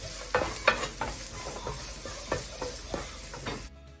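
Finely chopped medium onion softening in hot oil in a pan makes a continuous sizzle broken by several sharp stirring scrapes, close up, ending abruptly.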